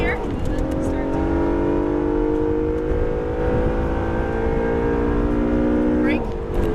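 An Acura NSX accelerating on a race track holds a loud, close engine note that climbs steadily in pitch through the gears. A voice talks over it throughout.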